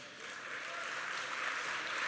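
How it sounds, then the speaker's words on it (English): Conference audience applauding a speaker, a broad, even wash of many hands clapping, steady and slightly swelling, heard from within the hall without speech. "Give him a warm round of applause."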